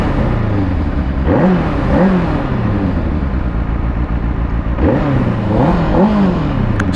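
A Benelli TNT 600 motorcycle engine starts and idles with a steady rumble, then revs up and down twice, the pitch climbing and falling each time.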